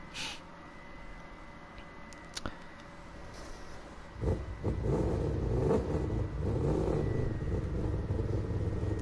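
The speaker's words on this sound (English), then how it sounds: "it is the best sounding car you have ever heard" A race car engine at the FIA Nations Cup idles with a low rumble, then revs up sharply and holds a loud, aggressive roar with brief throttle blips.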